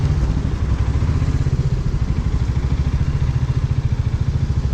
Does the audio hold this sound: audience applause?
no